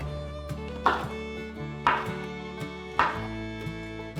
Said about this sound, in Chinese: 把杏鲍菇切成丁状